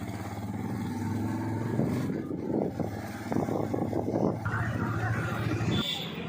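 Vehicle engine idling and running near a bus stand, a steady low rumble with a slight rise in revs midway; people talk over it throughout.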